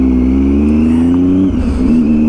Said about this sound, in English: There's a taxi coming.